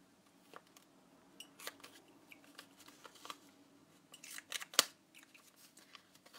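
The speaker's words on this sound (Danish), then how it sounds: "Så skal vi lige have klippet her." Scissors snip through paper while a junk journal is assembled, with close, quiet irregular cuts and soft rustling, including one sharper snip near the end.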